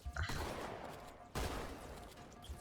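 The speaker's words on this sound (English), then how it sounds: "I'm being shot from somewhere." Gunfire in the Halo 2 campaign on the Metropolis level, two loud bursts of rapid shots with a rumbling tail, the second starting about halfway through, close and dominant.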